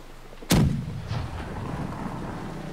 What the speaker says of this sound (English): I shot the side swivel to the sails, like way up, and I got a hit marker